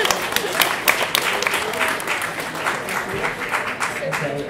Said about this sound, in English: I'd just like to give a round of applause for the audience, for the speakers.